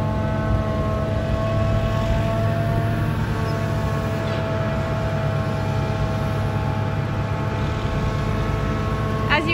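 A silage chopper works its way around a cornfield during harvest, giving a steady, loud machine drone with a constant engine hum and harmonic whine that runs through the whole stretch without a break.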